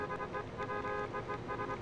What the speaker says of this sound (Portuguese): O que foi que tá buzinando pra mim?